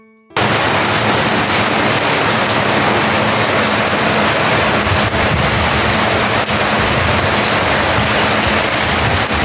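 Heavy rain falls as a loud, steady, dense hiss that starts abruptly and then continues without a break, with no voices heard.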